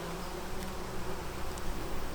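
Honey bees crowd hive frames during a colony inspection, their dense steady buzzing filling the air, close and continuous with small fluctuations in intensity and no voices.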